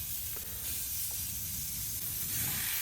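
A smash burger patty sizzles in a pan with a steady, bright hiss, fairly quiet and continuous throughout, with no voices.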